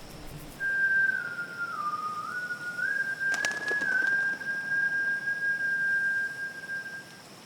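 A lone, eerie whistled tune in a horror story holds one long wavering note that dips and rises, clear and fairly close over a soft hiss, with a brief faint rustle partway through.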